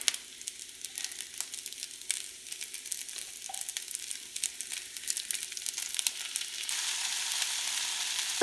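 Garlic sizzling in hot oil in a pan of fried rice, a fine steady crackle with occasional stirring scrapes, the frying growing brighter and louder toward the end.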